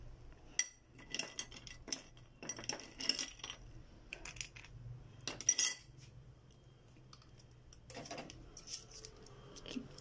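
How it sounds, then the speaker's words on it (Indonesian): Ice cubes drop one after another into a glass of avocado juice topped with Milo chocolate powder, giving a series of sharp, close clinks and knocks spread across the stretch with quiet gaps between. "Lalu kita kasih beberapa es buah batu."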